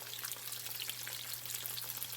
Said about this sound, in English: I'm going to go ahead and do me some peppers and onions in that one.